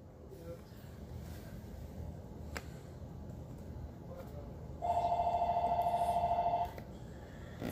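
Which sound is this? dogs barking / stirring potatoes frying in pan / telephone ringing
telephone ringing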